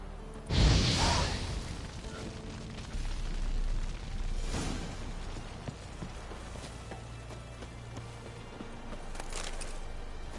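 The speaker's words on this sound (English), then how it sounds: "Now for a shot of Igni." A burst of the Igni fire sign spell cast in The Witcher 3: Wild Hunt, a loud whooshing flare near the start, with softer rumbling bursts and quiet game ambience afterwards.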